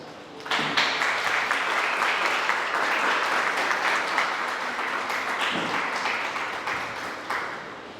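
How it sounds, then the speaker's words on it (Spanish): A science talk audience welcomes a marine researcher with a burst of applause that starts suddenly, holds strong for several seconds, then gradually thins out toward the end. "La recibimos con un fuerte aplauso."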